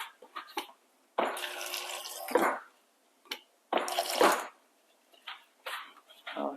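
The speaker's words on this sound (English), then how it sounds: "Now we're going to add a little bit of water so we can blend." Water poured into a blender jar for a green healthy mocktail, two splashy pouring bursts with brief pauses, fairly close, while a person talks between pours.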